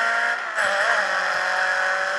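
Race car engine from the video game Grid 2, a loud continuous high-pitched whine holding steady with a brief dip, heard alone.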